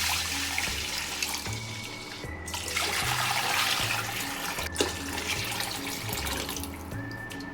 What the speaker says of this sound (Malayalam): ഒരു 3 മഗ് വെള്ളം ഒഴിക്കുകയാണ്